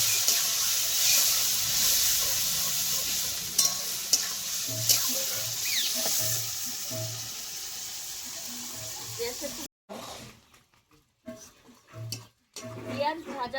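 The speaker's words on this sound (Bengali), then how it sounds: "পেঁয়াজটা একটু ভালো করে ভেজে নেব।" Chopped onions sizzling in hot oil with cardamom, cloves and cinnamon in a pan, a steady bright hiss that fades later, with occasional stirring clinks and someone talking over it.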